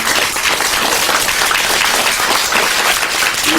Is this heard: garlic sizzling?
no